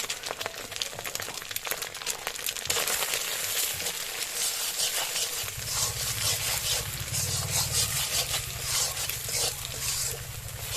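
Salt, turmeric and coriander powder with other ingredients frying in a pan: a steady, close broadband sizzle with stirring and scraping throughout, and a low hum joining in later.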